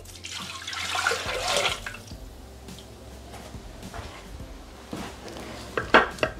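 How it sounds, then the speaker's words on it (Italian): Water is poured into an unwashed Thermomix mixing bowl, a splashing rush that swells early then settles into trickling, ending with a few clinks and knocks. "Senza lavare il boccale, mettere l'acqua."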